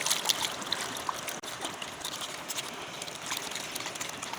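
Water is poured into a container of Surf detergent powder mixed for cleaning a Honda CG 125 motorcycle engine, giving a steady, close splashing trickle that runs continuously with a few faint clinks.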